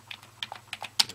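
A USB keyboard connected to an Android phone is typed on in quick, irregular clicks, about eight keystrokes in a little over a second, close and clear over a faint steady hum.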